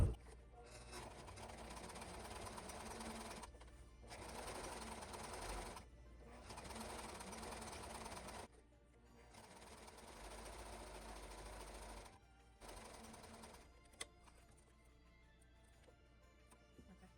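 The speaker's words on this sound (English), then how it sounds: "now we're gonna sew this close." A sewing machine stitches a scrunchie closed, the fabric cut from an old tie, running in steady bursts broken by short pauses, close and moderately loud, with no talking.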